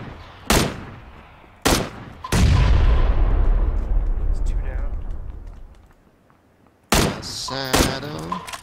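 Frag grenade thrown in the video game PUBG Battlegrounds: a heavy booming blast with a long rumbling tail, among sharp gunshot cracks, loud and close, with players talking over it.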